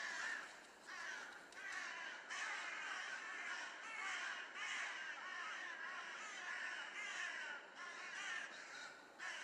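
Corvids caw repeatedly outdoors during crow-control hunting, a run of harsh, raspy calls in uneven rhythm, moderately distant over a quiet field background.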